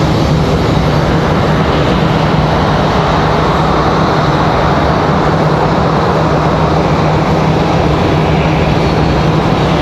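An airliner arriving at Raleigh-Durham International from Nashville, a steady loud engine roar that holds constant throughout with a low hum underneath, no voices.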